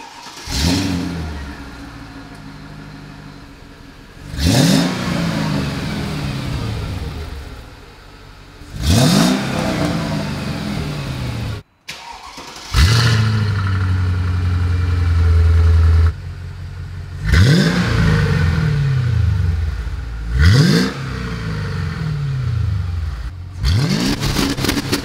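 A Mercedes SL500 engine, on a cold start, revs hard several times in loud, spaced bursts, settling back to a rumbling idle between each throttle blip.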